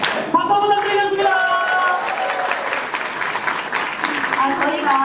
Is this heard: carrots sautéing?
no